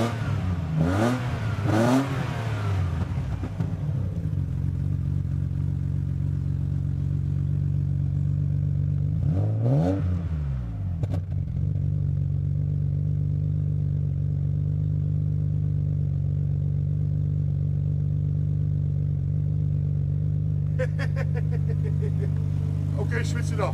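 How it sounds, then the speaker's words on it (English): A special, powerful car engine is revved in a few sharp bursts over a steady, loud, close idle, with a quick blip near the end, while people talk nearby. "this is one of the best sounding engines in the world"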